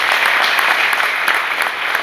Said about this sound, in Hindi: ताली बजनी चाहिए, नहीं बजनी चाहिए?